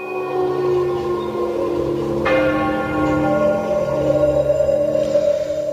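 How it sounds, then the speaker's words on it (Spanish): Church bells of a distant temple near Lake Chapala ringing at night, long resonant tones overlapping and sustaining, with a fresh strike about midway that sets off a new ringing decay. "escuché a lo lejos unas campanadas de un templo."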